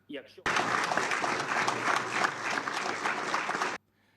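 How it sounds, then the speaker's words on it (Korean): UN Security Council members applaud Ukrainian President Zelensky's speech, a steady burst of many hands clapping in a chamber lasting about three seconds, starting and stopping abruptly, with a brief voice just before. "젤렌스키 우크라이나 대통령 연설에 안보리 이사국들은 박수로 격려했습니다"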